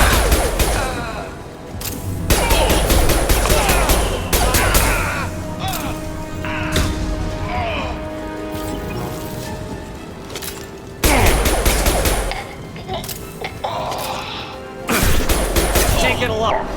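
Rapid bursts of automatic weapon fire and booming impacts in the video game Mass Effect 2, loud and continuous with brief lulls, while character voices call out over the combat.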